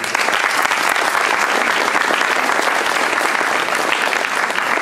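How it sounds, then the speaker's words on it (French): An audience at a round-table event on school orientation claps steadily and loudly throughout, a dense continuous wash of applause with no pauses. "je pense qu'on peut les applaudir quand même."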